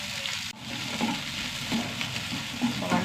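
Okra and egg scramble is stir-fried in a pan, giving a steady close sizzle with repeated scraping strokes of a spatula. It is continuous and fairly loud, with no talking.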